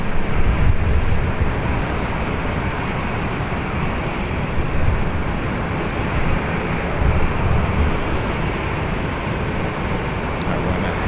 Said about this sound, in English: The Hawaiian Dreamliner now short final.